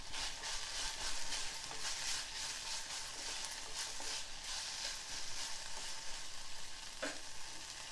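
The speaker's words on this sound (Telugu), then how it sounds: "పుదీనా ఇలా కొంచెం వేగింది కదా. ఇప్పుడు ఇందులో ఒక 7-8 వెల్లుల్లి వేసుకోవాలి." Mint leaves, garlic and cumin seeds sizzle and crackle in a hot pan, a steady close frying hiss with light stirring scrapes throughout and no talk.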